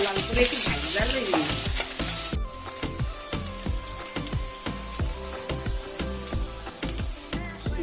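Onions frying in a pan with cumin, bay leaf and cardamom for a mutton curry: a loud, steady sizzle with repeated scraping stirs. Music plays underneath throughout.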